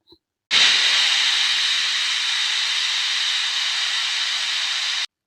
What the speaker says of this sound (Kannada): ಕುಕ್ಕರ್ ಮುಚ್ಚಳ ಮುಚ್ಚಿ 2 ವಿಷಲ್ ಬರುವವರೆಗೂ ಮೀಡಿಯಂ ಫ್ಲೇಮಿನಲ್ಲಿ ಬೇಯಿಸಿಕೊಳ್ಳಿ